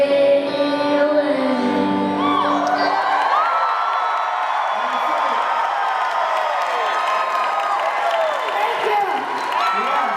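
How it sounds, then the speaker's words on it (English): A crowd at a kids' show cheers wildly, with loud applause, whoops and children shouting in a dense, steady roar that never lets up. "The crowd went wild."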